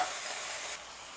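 Fiddleheads sizzling in hot olive oil with minced garlic, a steady bright hiss that drops abruptly to a quieter sizzle partway through.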